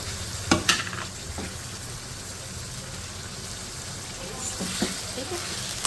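Goat liver masala fries in a pan with a spoonful of garlic ginger paste, giving a steady close sizzle with a few sharp stirring clicks near the start and again toward the end.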